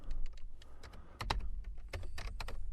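Someone types on a computer keyboard, entering text into a search box: quick, irregular bursts of close key clicks with short pauses and no talking.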